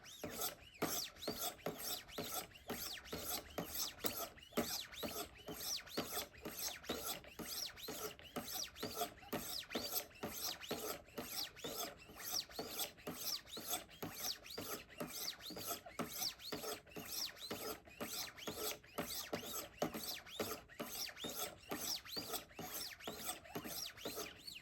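A Benchmade knife blade is drawn across 600-grit stones on a Wicked Edge sharpening system, giving quiet, fast, repeated rasping strokes in a steady rhythm with no talk.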